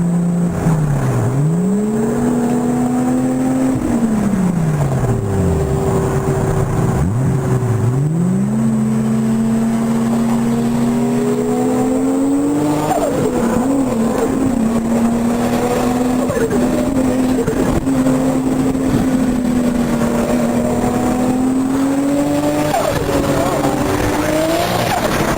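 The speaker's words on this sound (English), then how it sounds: "They're both Murcielagos." Two Lamborghini Murcielago sports cars rev and drive, a loud engine note rising and falling through several sweeping pitch changes, with possible tire squeal and voices in the background.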